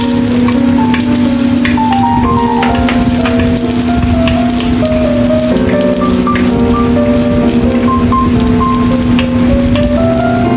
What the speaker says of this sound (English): Stir-fry chopped ginger and set aside.